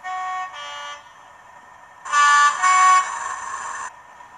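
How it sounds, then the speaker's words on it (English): Two short tones sound, then after a pause a louder, longer model locomotive air horn blast with pitch shifts, clear and close, with no talking, from a DCC-controlled model train. "I've then got F2 and 3, which are air horns."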